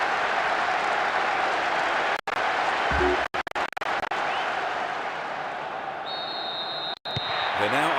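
A stadium crowd in the football video game PES 6 on PS2 keeps up a dense, loud roar of noise and applause after a goal, broken by a few abrupt cuts and brief tones.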